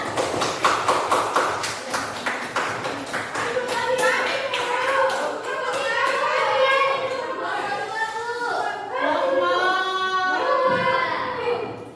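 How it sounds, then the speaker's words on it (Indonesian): A classroom of children clapping for group 1, beginning with a run of rhythmic, evenly spaced claps, then giving way to children's voices chanting or singing together over continued clapping. "Beri tepuk tangan."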